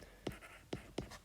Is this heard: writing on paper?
yes